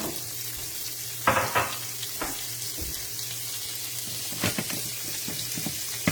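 Onions dropped into a hot pan over medium-high heat hiss in a steady, even sizzle, with a few clattering bumps of utensil against the pan, close and fairly quiet.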